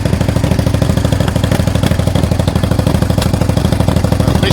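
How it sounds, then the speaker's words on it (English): A Suzuki SV650 motorcycle engine runs with a misfire, a close, loud, steady idle with irregular clattery pulses and no voices. "Misfire is more pronounced"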